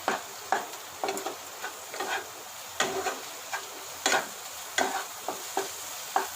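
Spiny gourd curry with a little gram flour being stirred and sautéed in a pan, the spoon scraping in quick repeated strokes over a soft, steady sizzle, close and fairly quiet.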